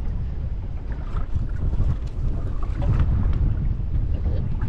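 Strong wind blowing outdoors on a lake during bass fishing, a loud, constant low rumble buffeting the microphone throughout, with no talk over it.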